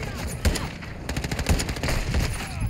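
Gunfire from Call of Duty MW2 crackles in rapid, repeated shots with several heavier thumps, close and loud, with a game voice faintly underneath.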